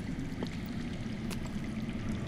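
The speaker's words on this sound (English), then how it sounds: "I hear water. From underground." Underground water flowing in the Game of Thrones Telltale video game, Episode 3 'The Sword in the Darkness': a faint, steady, distant rushing murmur that holds unbroken throughout, with no one speaking.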